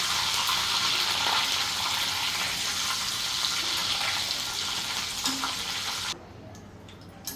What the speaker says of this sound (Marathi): आता कढीपत्ता तळून घेते.